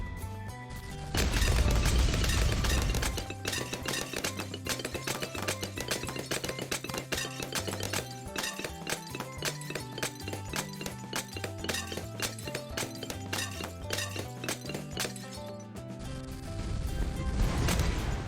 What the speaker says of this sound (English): I'm sure everyone else is enjoying the sound of the ceramics getting crushed